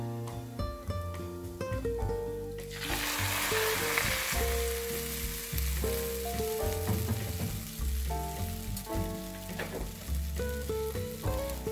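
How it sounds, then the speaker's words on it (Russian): Egg mixture hits a hot pan and bursts into a loud, steady sizzle that carries on beneath background music, gradually settling as it keeps frying. "И сюда выливаем всю нашу заготовленную"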